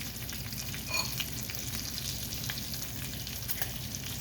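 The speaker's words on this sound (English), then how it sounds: "I'm not a bacon person, but I know once it gets kind of crispy, that's when you have to kind of move it around." Bacon fries in a pan with a continuous, gentle crackling sizzle and faint pops, heard alone at low volume.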